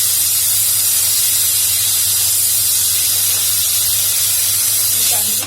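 A pressure cooker vents its steam in a loud, steady hiss that runs without a break until it cuts off abruptly at the very end.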